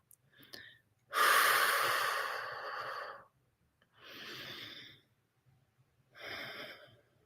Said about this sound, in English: you can just take a big out breath and let all your air out